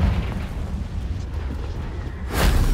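Bombarda and Confringo spell explosions in the Hogwarts Legacy video game make a loud, steady rumbling blast that swells into a second, brighter burst near the end, with no talking.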